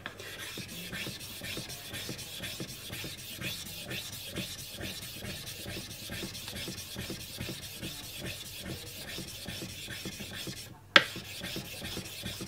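Nagura stone rubbed over a Japanese natural whetstone to raise a polishing slurry, a steady quiet rhythmic scraping that continues throughout, with a single sharp knock near the end.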